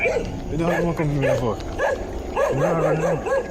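Small dogs barking and yipping at night in a series of short, high, excited barks, with clusters near the start and again toward the end, fairly close over a noisy background.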